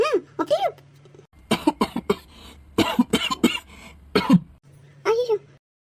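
Bursts of coughing and throat clearing in a comic Tamil skit, close and fairly loud, broken up by stretches of talking voices.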